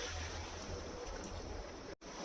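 Water pours into a pot for kolmi shak greens curry: a steady, close, rushing splash that holds evenly and breaks off briefly near the end before resuming.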